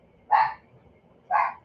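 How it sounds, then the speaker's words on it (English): A puppy barks indoors, giving two short, sharp yaps about a second apart, close and clear against a quiet background. "Puppy."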